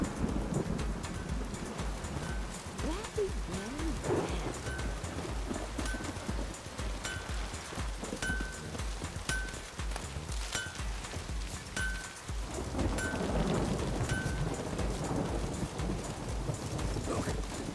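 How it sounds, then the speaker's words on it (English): A thunderstorm in The Witcher 3 video game: steady rain hisses throughout while thunder rolls and rumbles low underneath, with no talking. "The storm, damn it."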